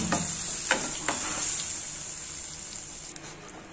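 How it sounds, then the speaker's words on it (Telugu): A spoon works through thotakura pappu, Telugu amaranth leaf dal, in a pan, giving a steady sizzling hiss with a few soft scraping strokes and clinks near the start and the end. "ఇవన్నీ పప్పును వేసేసుకొని ఒకసారి బాగా కలుపుకొని స్టవ్ ఆపేసుకుందాం"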